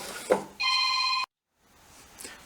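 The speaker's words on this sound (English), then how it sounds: "And my phone's starting to ring." A telephone rings in a workshop during motorcycle repair work, giving one steady electronic trill that lasts about half a second and then cuts off, followed by quiet room noise.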